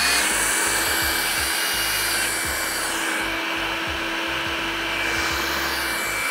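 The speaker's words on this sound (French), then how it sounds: "L'aspiration se met en route automatiquement." A Hilti TE DRS dust extraction unit powered by a Hilti TE 6-22 rotary hammer, drilling into brick, runs with a loud, steady whooshing suction roar under a low rattling hammer chatter, close and continuous.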